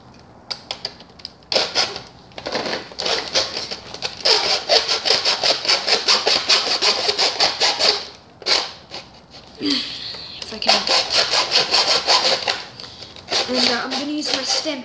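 A saw cuts through the top of a plastic Nerf Rapidstrike blaster in rapid, loud back-and-forth strokes. The strokes come in bursts separated by brief pauses.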